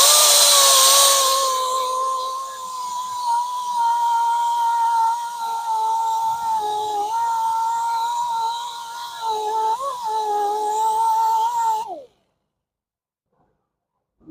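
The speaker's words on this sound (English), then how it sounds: "I want to try to avoid the tire as much as possible with the edge of the grinding disc." A grinding disc whines steadily against a gouged Mercedes S580 alloy rim for about twelve seconds, its pitch dipping and wavering under load before it cuts off abruptly into silence.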